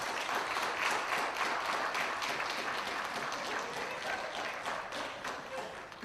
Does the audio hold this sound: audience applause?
yes